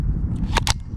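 A single sharp report from a .22 firearm loaded with very old, underpowered ammunition, a short dry crack followed by a brief second snap, close and fairly loud, with no talk.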